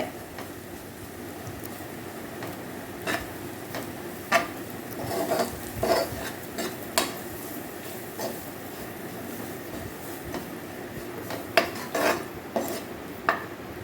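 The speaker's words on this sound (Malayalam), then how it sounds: "എല്ലാം കൂടെ ചേർത്ത് നന്നായിട്ട് വഴറ്റുക" Egg curry masala sautéing in a pan, with scattered spoon scrapes and clinks against the metal over a low, steady cooking hiss, close and moderately loud.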